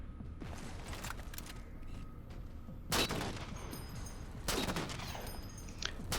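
Sustained automatic gunfire from the Halo Spartan Ops video game, aimed at a beam rifle jackal; a continuous rattle of shots runs throughout, with louder bursts swelling midway and near the end.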